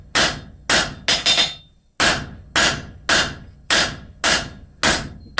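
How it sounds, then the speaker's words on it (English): A hammer strikes hot steel on an anvil as a blacksmith forges an asymmetrical taper for a scraper, sharp ringing blows in a steady rhythm of about two per second with a brief quick flurry, loud and close. "I'm just going to forge this down. It's a nice asymmetrical taper."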